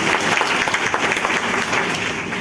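An audience at a meeting in Jaunpur, Uttar Pradesh, claps in dense, sustained applause, many hands together, loud and close throughout.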